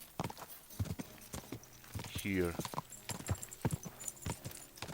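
Horse hooves clip-clop in a steady rapid rhythm in the medieval role-playing game Kingdom Come Deliverance II, with a loud neigh partway through and someone briefly speaking over the hoofbeats.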